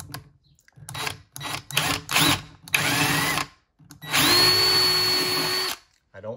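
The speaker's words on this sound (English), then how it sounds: "drill a hole." Short bursts of a power drill with a pilot bit boring up through a cabinet bottom, then a longer steady whirring run that winds down, loud and close, with brief pauses between spurts.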